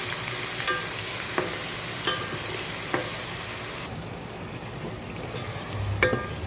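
Green chillies fry in hot oil in a pan with cumin and dried red chillies, giving a steady close sizzle. Sharp scrapes and taps from stirring break through every second or so.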